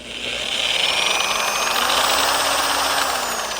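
A car paint buffer spins at speed setting 2 while buffing a 1963 Impala, a steady high motor whine that holds loud and even for several seconds, alone without talk.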